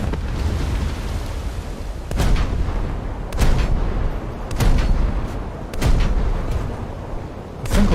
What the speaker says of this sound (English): my main gun ammo got exploded